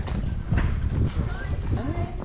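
Horse hooves clip-clopping at a slow walk during tacking up for a ride in Africa, soft irregular thuds close by, mixed with people talking and background chatter.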